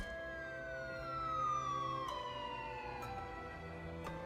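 An emergency siren wails steadily in the distance, its tone sliding slowly downward with a few faint clicks and knocks over a low hum.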